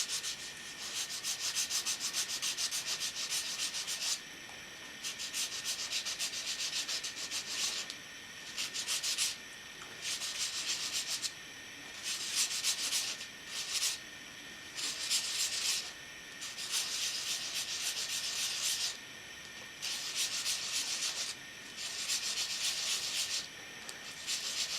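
Scale model cleats are sanded by hand for a road-wear look: repeated raspy rubbing strokes come in regular bursts with brief pauses between them, close and fairly loud, with no one speaking.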